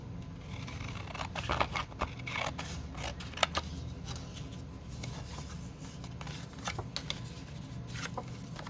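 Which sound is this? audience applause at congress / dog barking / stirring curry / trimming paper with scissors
trimming paper with scissors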